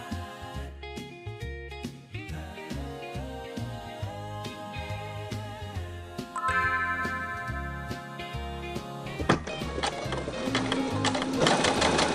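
A sewing machine top-stitching festive holiday fabric for a tote bag runs in a steady ticking rhythm beneath loud background music, which grows busier toward the end.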